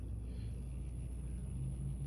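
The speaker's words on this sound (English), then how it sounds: "there you can see the motor compared to the drive shaft spinning" The transmission motor and drive shaft of an Injora Ascent18 RC crawler spin, giving a steady, quiet low rumble with a thin, constant high-pitched whine above it.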